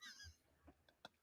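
A person vocally imitates Donald Duck sneezing, a squawky duck-like voice followed by short sharp nasal bursts, the last one loud and abrupt, heard alone in a quiet room.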